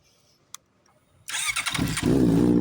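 A 2018 model rental car engine cranks after a short click and a pause, then catches and settles into a loud, steady idle.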